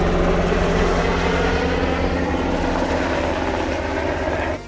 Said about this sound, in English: A helicopter flies over.